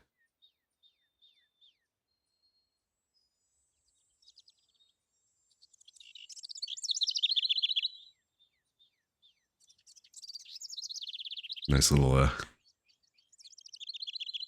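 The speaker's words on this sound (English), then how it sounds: "birds, nature ambiance, and the stream on." Small birds chirp and twitter in short bursts within the nature ambiance of Phoenix Wright: Ace Attorney - Spirit of Justice, soft and fairly close, with a voice speaking briefly and one sharp broadband burst near the end.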